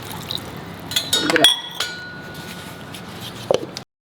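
Water poured from a mug onto grated coconut to draw out creamy milk for a pomfret caldine curry, heard as brief clinks and a short splashy pour, followed by a quieter stretch and one more clink.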